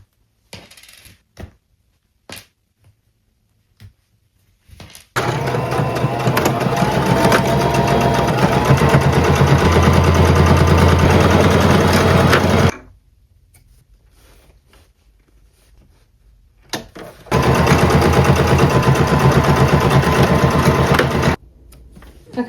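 A sewing machine runs a straight stitch along the folded half-inch hem of a thrifted top, two steady bursts of close, loud mechanical whirring separated by a quiet pause, with no talk.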